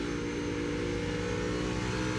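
NASCAR Cup Series race cars accelerate hard at Iowa Speedway, a loud, steady, buzzing engine roar with a fast pulsing rhythm, heard alone without talk.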